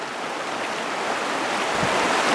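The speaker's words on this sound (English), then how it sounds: "It's a fair bit of water pushing down underfoot." Fast-flowing river water rushes steadily past a fisherman wading for trout, a dense, close, continuous roar with no talk over it.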